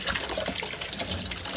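Dried chickpeas soaked with bay leaf and garlic, rinsed under a running kitchen tap, giving a steady close splashing rush of water that holds even throughout.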